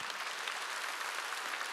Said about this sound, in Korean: 믿으면 박수 치라